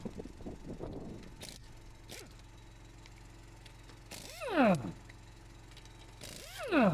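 A socket wrench ratchets lug nuts off a car tire, giving quick clicking bursts at intervals against a low steady hum, close by, with a few knocks between the ratcheting runs.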